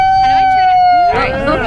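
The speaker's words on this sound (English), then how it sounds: "That's a siren." A loud, steady siren tone holds for about a second at an ICE protest in the Bronx, then gives way to overlapping voices and noise.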